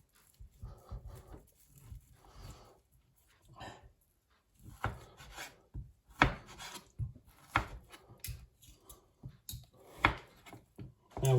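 Knife repeatedly cutting and cubing meat on a chopping board, a run of irregular knocks and scraping strokes, close up and growing busier and louder toward the end, no voices.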